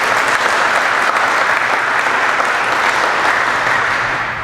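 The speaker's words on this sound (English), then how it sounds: "So give yourselves a round of applause too." Audience applause at a YMCA Y For All campaign kickoff event, a dense, steady wash of clapping from a large room of people, loud and sustained throughout before easing slightly at the end.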